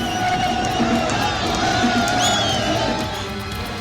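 A huge crowd of supporters chants slogans in the Mandi valley as Kangana Ranaut arrives to file her nomination, a dense, continuous roar of massed voices and shouts that holds steady before easing slightly at the end.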